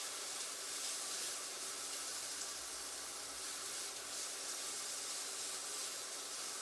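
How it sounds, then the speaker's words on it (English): Peppers and onions sautéing in a pan make a faint, steady hiss that holds evenly throughout with no talk over it. "We're going to let them saute for a couple of minutes, just until they get a little soft"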